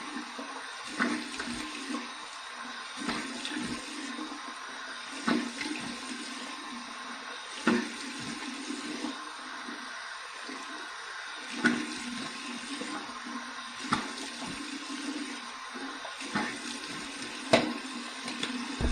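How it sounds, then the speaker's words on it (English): Cold tap water runs steadily into a sink for a post-shave rinse, with repeated soft splashes as water is cupped to the face at irregular intervals. "Here's my cold water rinse."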